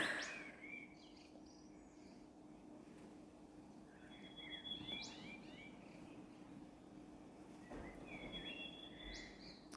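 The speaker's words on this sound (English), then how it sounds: "the birds are having a good old time outside" Birds chirp outside on a changeable spring day, faint and distant calls recurring every few seconds over a steady low background hum.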